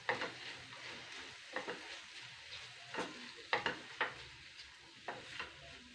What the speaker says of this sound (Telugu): 1 నిమిషం ఫ్రై చేద్దామండి.